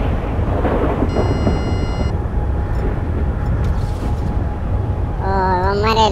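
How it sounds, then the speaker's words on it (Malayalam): Thunder rumbles with steady rain in the video game GTA 5 online, a broad low roar throughout, with a brief tonal in-game sound and warbling effects near the end. "ആ തുടങ്ങി, ഇടിയും പെട്ടി മഴ തുടങ്ങി."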